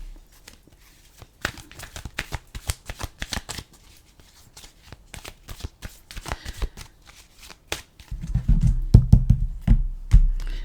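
Tarot cards being shuffled in quick papery riffles and flutters, close up and fairly quiet, with a louder low rumbling handling noise toward the end.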